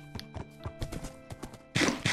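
A horse's hooves clip-clop in a survival video game, the steady beats rising to a louder burst of stomping near the end.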